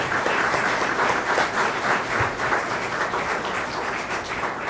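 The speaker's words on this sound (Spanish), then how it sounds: "le brindamos un fuerte aplauso desde aquí" A church congregation applauds at a Mass for the Ascension, dense steady clapping from many hands, loud and sustained throughout with no talk over it.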